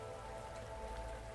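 Cold rain falls steadily in an Arknights story scene, a dense, continuous patter of raindrops on the ground with an even, unbroken hiss and no voices.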